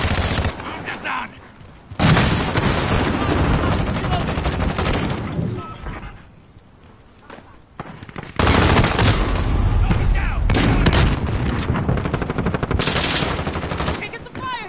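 Sustained automatic gunfire in a PS4 shooter game, dense machine-gun bursts filling most of the stretch, with a short quieter gap midway before the loud firing resumes; a voice talks briefly over it.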